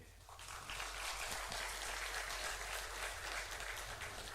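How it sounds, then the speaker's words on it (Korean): Steady applause from a sizable church congregation, heard at a moderate distance, rising quickly after a brief quieter moment and continuing evenly. "뜨거운 박수로"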